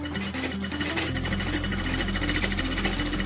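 Sewing machine running steady straight stitches, a fast continuous mechanical whir with a rapid even needle rhythm, close and loud throughout with no voices.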